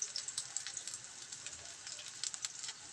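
Chopped onion, two bay leaves and pieces of cinnamon bark frying in hot oil, giving a faint, steady crackling sizzle with small sputtering pops, heard close and quiet without talk.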